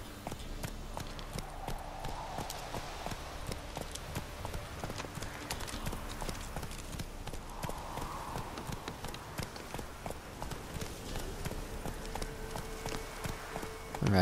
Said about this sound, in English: it's not realistic to actually push your horse that hard, but let's ride